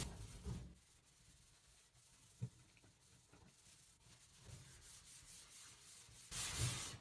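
Sponge scrubbing a sink with a homemade paste of baking soda and hydrogen peroxide, a soft, quiet rubbing and scouring that rises and falls in uneven strokes, with no talk.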